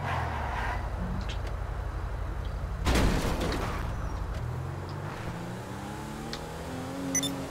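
A car drives around in GTA Online, its engine droning and shifting pitch as it accelerates, with a sharp crash-like burst about three seconds in and steady motor noise afterward.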